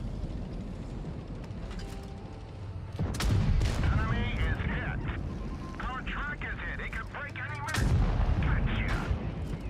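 An ammo rack explosion in the World of Tanks Blitz video game. Heavy booming blasts and gunfire roll out in two loud surges, with voices and game sounds mixed in.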